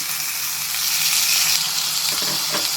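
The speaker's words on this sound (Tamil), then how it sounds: "இந்த வெஜிடபிள்ஸு லைட்டாக ஃப்ரை ஆகிற அளவுக்கு நம்ம நல்லா ஃப்ரை பண்ணி எடுத்துக்கலாம்" Onion, carrot, beans and potato fry in hot oil for wheat rava upma, giving a steady, close, dense sizzle that swells slightly and carries a few faint stirring clinks near the end.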